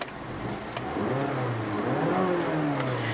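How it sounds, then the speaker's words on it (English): A 2017 Mazda CX-5's 2.5-liter Skyactiv-G four-cylinder engine turns over and settles into a steady mid-pitched idle that rises slightly, heard from nearby with no talking. "to start the vehicle up, just put your foot on the brake"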